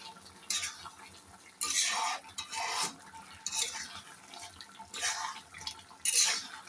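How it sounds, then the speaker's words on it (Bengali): Taro stolon curry with hilsa fish head is stirred in a pan after a squeeze of lemon juice, with repeated scraping bursts of the spoon over a soft simmering sizzle, close and fairly quiet. "আমি লেবুর রসটা চিপে আর একটু নাড়াচাড়া করে দিব।"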